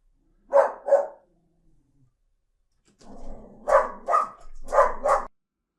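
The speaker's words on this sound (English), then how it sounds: "The dog went crazy." A dog barking at other dogs passing through the neighbourhood: two quick barks, a pause, then a low growl leading into two more pairs of loud, close barks.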